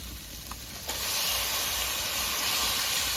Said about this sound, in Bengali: এখন দই মাখানো মাংসটা দিয়ে দেবো